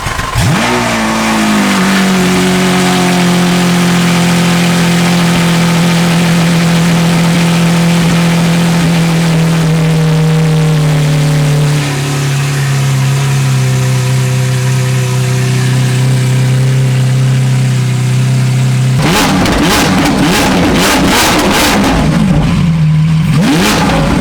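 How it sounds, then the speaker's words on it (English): A supercar engine cold-starts with a rising whine, then settles into a loud, high idle that slowly drops in pitch as it warms. Near the end it breaks into several sharp, close revs, with no talking. "So we're gonna go ahead and start it right now. It's gonna be cold start and let it warm up a little bit so we could let you guys hear it."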